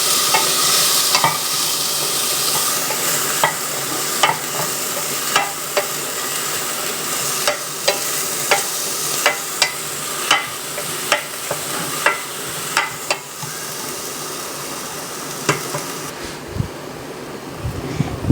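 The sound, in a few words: stir-frying cabbage, peas and bell pepper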